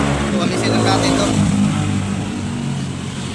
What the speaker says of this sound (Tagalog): gumana na rin mga ka-winding yung ating top load na automatic washing machine